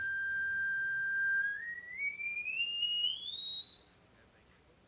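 High-pitched electronic tone from Memorex equipment, a steady whine that glides upward in small steps toward a piercing, painful pitch, fairly faint and alone.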